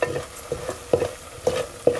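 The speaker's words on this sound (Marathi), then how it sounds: "मसाला आपल्याला त्यामध्ये परतून घ्यायचा" Black masala spice paste for a village-style chicken curry sautéed in a pan, with several spoon scrapes and stirs in a loose rhythm over a soft background sizzle, close and moderately loud, no talking.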